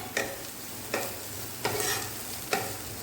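Vegetable masala is stirred in a pan: four evenly spaced scraping strokes of a spoon sound over a soft continuous sizzle, close and moderately loud, with no talking.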